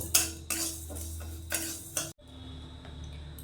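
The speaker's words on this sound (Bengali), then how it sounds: "শুকনো কড়াইতে একটু ভেজে নেব" Sona mung dal being dry-roasted in a wok, with a utensil scraping and clinking against the pan in several separate close strokes, then a quieter stretch.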